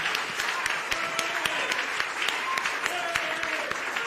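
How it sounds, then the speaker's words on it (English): Steady applause from a TV studio audience, many hands clapping together at an even level for a few seconds. "a round of applause for the head of the political desk at Multimedia, Evans Mensah."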